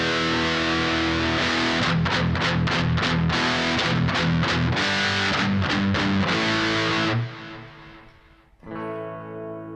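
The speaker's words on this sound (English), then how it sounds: "you can hear the real grit of the distortion come through" Electric guitar played through a Boss DS-1 distortion pedal, loud and gritty, with rhythmic strummed chords that chop in bursts, then a sustained ringing chord fading before a final struck chord rings out alone.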